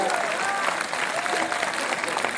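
Audience applause at a Hindi poetry recital, a dense steady wash of clapping from a crowd lasting a couple of seconds, with some voices mixed in.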